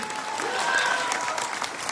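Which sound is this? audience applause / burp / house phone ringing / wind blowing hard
audience applause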